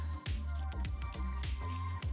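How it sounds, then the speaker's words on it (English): A cup of water poured into a bowl of chili spice mix with salt makes quick, close liquid glugs and splashes in a steady bubbling rhythm. "why don't you pour in that 1 cup of water"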